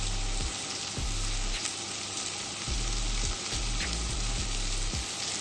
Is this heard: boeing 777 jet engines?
no